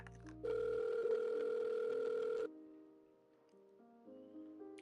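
An outgoing phone call rings unanswered, giving one long ringback tone of about two seconds, then quieter beeps and tones as the call drops, with no one speaking.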